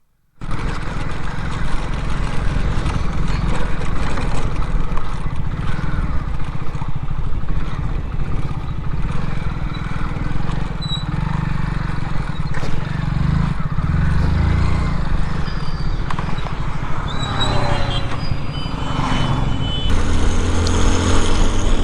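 Hero Splendor motorcycle engine running steadily while riding, a loud continuous drone held for the whole stretch, with a shift in engine note near the end.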